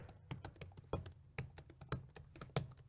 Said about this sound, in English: not annoying their neighbor with the clicking and clacking of the keyboard